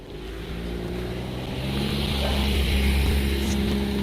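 A car passing on a road outside, its engine and tyre noise rising steadily as it approaches, fairly close and moderately loud, with no talk over it.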